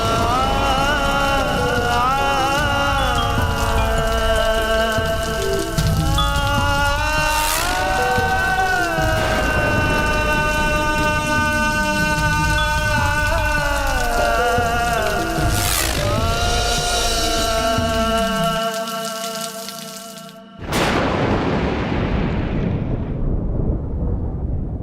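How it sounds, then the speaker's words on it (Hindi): Thunder and rain in a Hindi TV drama scene: swelling dramatic music plays throughout, then a sudden loud crack of thunder near the end, followed by a hissing wash of rain that fades. "बिजली कितनी जोर से कड़क रही है ना।"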